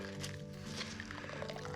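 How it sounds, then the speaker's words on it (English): Rag swished and squeezed in a container of warm soapy water while cleaning sanded car body paint, soft wet sloshing and dripping at close range under a low steady hum. "So next I take warm soapy water and a rag."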